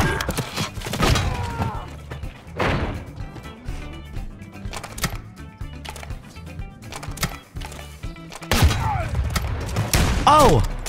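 Sharp pistol shots from the Rick Grimes pistol in a video game, a few loud cracks scattered among game effects, with excited voices talking around them.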